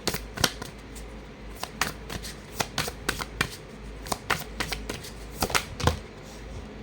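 A deck of tarot cards is shuffled by hand, giving a quick irregular run of close, crisp riffles and slaps over roughly seven seconds with no talking.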